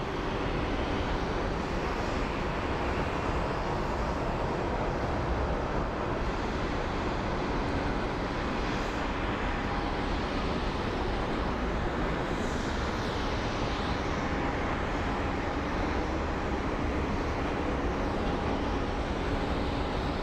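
Delta Airbus A321 airliner approaching Phoenix Sky Harbor, a steady broadband jet roar that holds loud and continuous throughout with a faint tonal whine, no voices.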